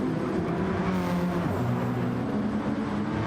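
Gran Turismo 7 race cars at Road Atlanta, including a Scirocco, as a dense, loud engine roar with overlapping harmonics sliding in pitch as cars pass close by.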